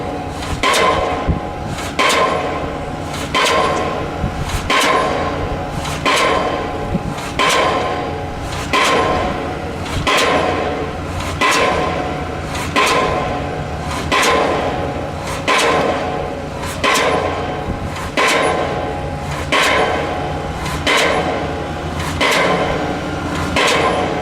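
A hammer drives a stake down into the ground at a truck tarp job, striking in a steady run of sharp, evenly spaced metallic blows about once a second, loud and close over a constant background hum.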